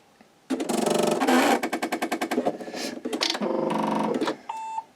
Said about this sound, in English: My machine does take a minute to start up because it is an older computerized machine.